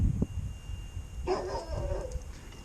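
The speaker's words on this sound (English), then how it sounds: "He just starts barking at me if he hasn't seen me for a while" A dog gives a short bark or yip at the start, then quieter whining sounds follow after a pause.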